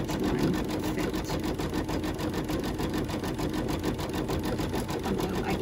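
A sewing machine stitches a quilt block with a fast, even mechanical patter that runs steadily throughout and sounds close and moderately loud.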